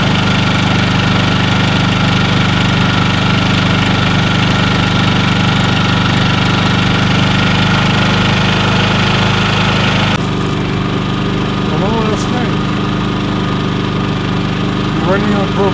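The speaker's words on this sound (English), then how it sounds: "Running on propane, you want to shut the generator off, don't shut it off with the generator." A Champion 3500 dual-fuel generator running on propane drones loudly and steadily close by. Its constant engine rumble changes slightly in tone partway through, and faint chirping sounds come and go near the end.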